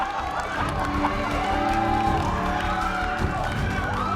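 Audience in a MasterChef cooking competition applauds and cheers a contestant, a lively mix of clapping and shouts under talk.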